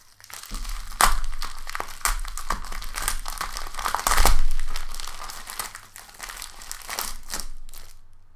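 Hard plastic packaging from a Wish order is torn and crumpled open, a continuous close-up crinkling and crackling with sharper tearing bursts, loud and busy throughout, no talk.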